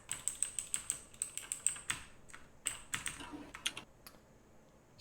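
Rapid keystrokes on a computer keyboard, typed in short irregular bursts with small pauses between, close and fairly quiet, with no one speaking.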